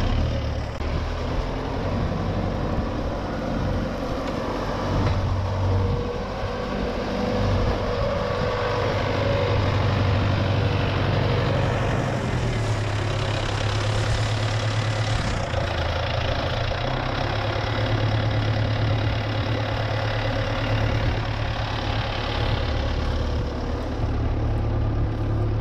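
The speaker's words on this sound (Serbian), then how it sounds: "Evo, s ovim blatom još diže hidrolika." An MTZ Belarus 892 tractor engine running steadily under load while its hydraulics lift a heavy mud-caked Lemken plough, a loud continuous low diesel drone with slight swelling, no voices.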